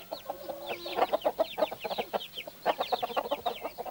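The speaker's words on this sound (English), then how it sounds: "These are cages filled with different kinds of ducks and geese and hens." Several hens cluck in short, choppy bursts in a poultry pen with ducks and geese, close and busy, with overlapping calls and a brief squawk near the start.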